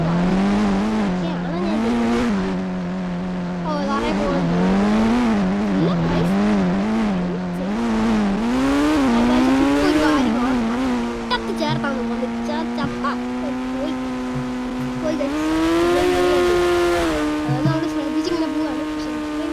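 A fire engine in a video game drives across a mega ramp. Its droning engine tone rises and falls in pitch, loud and continuous, with a voice audible at times.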